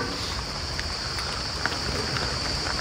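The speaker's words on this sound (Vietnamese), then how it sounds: "ở bên ngoài thì là trời mưa khá là nhiều bây giờ các bác" Heavy rain pours steadily outdoors as a dense, even hiss with scattered sharper drop hits, faint and continuous throughout.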